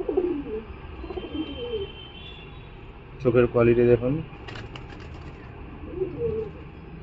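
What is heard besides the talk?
Khoten Madras pigeon cooing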